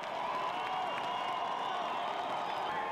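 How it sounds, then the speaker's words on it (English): A crowd at a college football game cheers and claps, a steady wash of distant roaring and applause from packed stands. "The crowd getting behind the homestanding crew."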